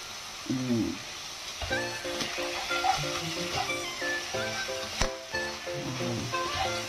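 Broccoli sizzling in a pan with corned beef, a steady frying hiss with crackles, while someone talks over the cooking.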